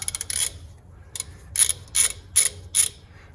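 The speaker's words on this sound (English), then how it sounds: "we're gonna switch back to the ratchet" A ratchet clicks rapidly in short bursts while loosening a bolt on a 2007 Nissan Xterra engine, several crisp, close ratcheting runs separated by brief pauses.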